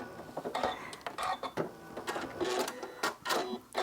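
A sewing machine stitches a quilt in quick, uneven runs of close mechanical chattering and clicking, with brief pauses, stops and handling sounds between bursts.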